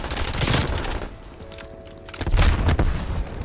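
Rapid automatic gunfire in the video game Call of Duty Cold War, two loud bursts of shots separated by a short quieter gap with a faint tonal game sound in between.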